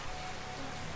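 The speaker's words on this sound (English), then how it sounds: "Oh, the rain! The rain is so loud!" Dense, constant rain hissing loudly over a surface in the video game Nuclear Throne, a brief unbroken wash of patter with no voices.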